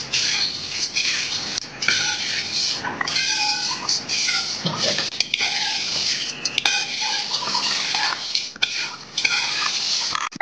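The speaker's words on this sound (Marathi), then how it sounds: "आणि छान एकदा ढवळून घेऊया." Salt and powdered sugar being stirred into bhadang, spiced puffed rice, in a pan: continuous scraping and rustling with repeated spoon clinks against the metal, steady and close throughout.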